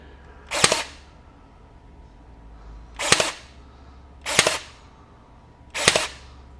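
DeWalt 20V DCN623 23-gauge cordless pin nailer firing four sharp, loud, close shots, spaced a second or two apart, with near silence between them.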